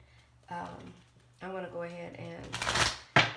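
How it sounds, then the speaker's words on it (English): A person talks briefly, then a deck of tarot cards is riffled and shuffled in two quick bursts close by. "shuffle these cards again"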